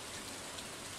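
Soft, steady rainfall patters in Stardew Valley during summer, a faint, even hiss of drops with no voices and a small bump at the very end.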